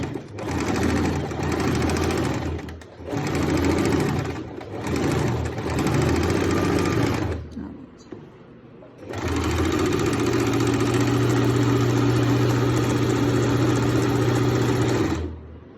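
Electric sewing machine stitching the seam of a salwar in bursts, with a loud, close, fast mechanical whir that stops briefly twice and then runs steadily again.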